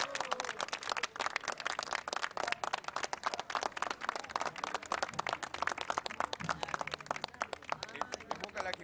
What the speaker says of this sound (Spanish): ¡El aplauso para el Charro! ¡Vamos!